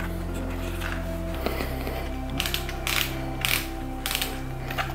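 A DJI Avata 2 goggle strap is loosened, giving several short bursts of ratcheting clicks from the adjuster dial, close and fairly crisp, over a steady electrical hum with no talking.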